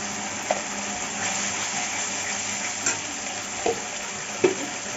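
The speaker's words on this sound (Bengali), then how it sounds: "এখন ভালো করে নেড়ে নেড়ে কষি নেব" Green jackfruit cooking in a pan with tomato paste, turmeric and spices as it is stirred, giving a steady low sizzle with a few sharp scrapes of the spoon against the pan.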